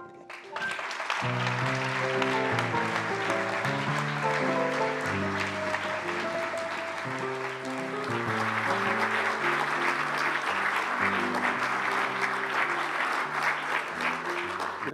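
Sustained audience applause at the DGPh photography award gala in 2023 runs loud and unbroken for about fifteen seconds, while upbeat stage music plays underneath the clapping.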